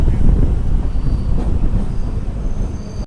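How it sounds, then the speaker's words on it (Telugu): A MEMU passenger train pulling into platform two at Pakala Junction, a broad rumbling roar of wheels and carriages with wind buffeting the microphone, loud and sustained for a few seconds. "ట్రైన్ వచ్చేసి ప్లాట్ఫామ్ నెంబర్ టూకి వచ్చింది పాగల జంక్షన్కి"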